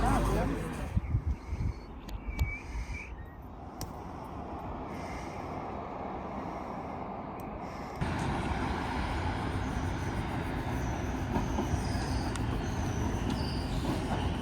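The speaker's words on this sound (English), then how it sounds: "Train's coming." A train rumbles in from a distance at a station, a low broadband roar that grows louder and fuller partway through, with people chatting nearby and a dog-friendly platform setting.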